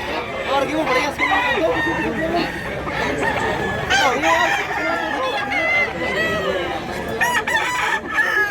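Fighting roosters and chickens at a market in Barili, Cebu, crowing repeatedly and clucking close by, with several birds overlapping and people talking faintly underneath.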